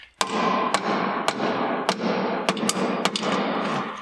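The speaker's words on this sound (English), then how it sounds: "Need a hammer." About nine sharp metallic hammer blows strike the suspension of a crashed Volkswagen Golf Alltrack at a steady, fairly quick pace, each ringing out loud and close over a low background hum.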